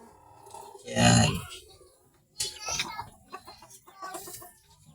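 Backyard chickens cluck and squawk close by during bathing, with a loud burst of clucking followed by softer, scattered calls, no speech over them.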